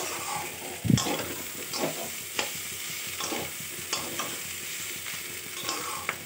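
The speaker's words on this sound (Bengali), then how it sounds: "এক হাতে নাড়াচাড়া করছি তো, তাই কড়াইটা ঘুরে যাচ্ছে ওভেনের উপরে" Food being stirred in a kadai on a gas burner, a continuous sizzle with repeated scraping strokes and occasional knocks as the pan shifts, near and without speech.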